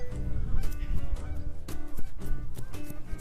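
Several geese honking close by, loud overlapping nasal calls in quick bursts throughout.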